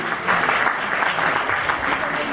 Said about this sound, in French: On peut l'applaudir très fort, celui-ci aussi.